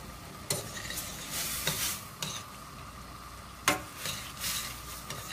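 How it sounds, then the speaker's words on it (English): A spoon stirs cauliflower and mushroom risotto with onion in a pan. There is a soft continuous scraping and sizzle, broken by a few louder scrapes against the pan. "Now the stirring is where you earn it"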